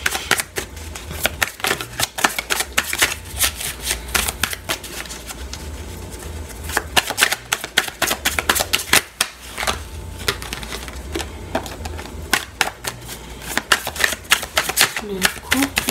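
Tarot cards shuffled and drawn during a reading, giving a long run of rapid riffling and flicking with steady papery clicks, close to the listener, while someone speaks French over much of it.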